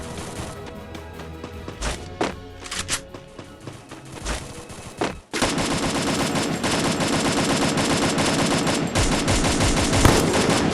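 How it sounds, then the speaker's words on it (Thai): Loud, dense bursts of rapid gunfire in the game Free Fire, sporadic at first then continuous automatic fire, with crashes and impacts throughout. "แล้วเสียงปืนด้านหน้า"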